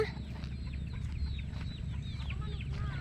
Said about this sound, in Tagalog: Manok kaya ni Herni yan?